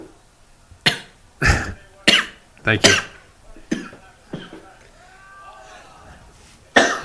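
A string of separate coughs and throat clearings, some single and some in quick pairs, loud and close amid brief spoken words, with a pause before a final cough at the end.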